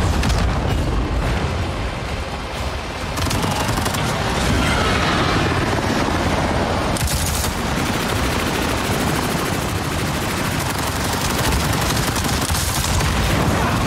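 Gunfire aimed at Scorpion gunships in Avatar: Frontiers of Pandora, loud and continuous, with heavy blasts, rotor-like roar and explosions piling up in a dense, unbroken barrage.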